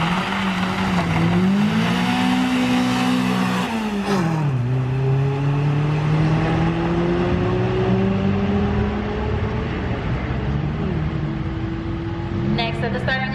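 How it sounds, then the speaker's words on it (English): A 1997 Honda Prelude, a fifth-generation BB6 in class DSP, climbs a hillclimb course with its engine loud and close, rising and falling steadily as it runs through the gears and revs hard. "Let's go up the hill in my little Prelude."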